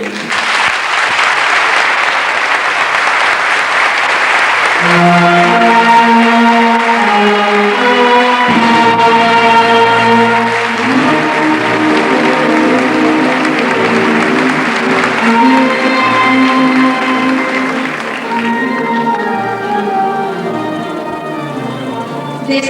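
Loud, sustained applause greets the new fallera major of Falla del Mercat at her 1987 presentation, while band music with steady melodic lines rises from partway through and plays on under the clapping.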